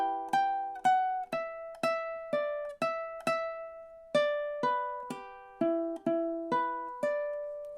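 Ukulele playing the first two measures of the verse of a song, a steady run of about fifteen cleanly plucked notes, close and moderately quiet, with no voices.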